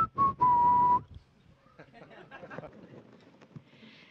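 A person whistles two short, loud tones at the start, then quieter background chatter and clatter follow.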